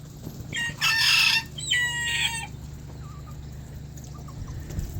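A small rooster crows loudly nearby, twice in quick succession, followed by a few soft clucks over a low, steady background hum.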